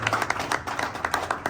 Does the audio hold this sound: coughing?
no